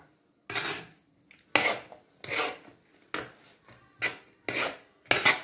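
Barley couscous being mixed with vegetables in a dish, heard as six or seven loud, close scraping and clattering strokes of a utensil against the dish, each a second or so long, with short pauses between them.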